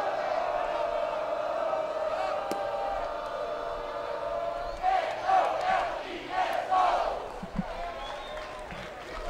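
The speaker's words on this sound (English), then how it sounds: "Young fans there behind the plate leading some of the Seminole faithful into Knowles cheer" Florida State Seminole fans behind home plate chant in unison at a college baseball game against Miami, a steady crowd drone with rhythmic swells and whoops rising over distant stadium noise.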